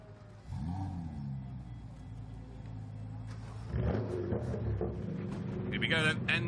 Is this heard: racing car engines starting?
yes